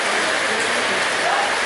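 Rain falls steadily outside a house, a dense, continuous hiss with faint patter, loud and close throughout and no clear voices on top.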